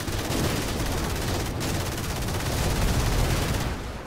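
Sustained automatic gunfire rattles at an armoured APC in GTA RP, a dense, loud barrage of rapid shots running almost without a break, close by and with no voices.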